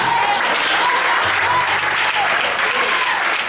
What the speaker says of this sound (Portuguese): Merece um aplauso bem forte.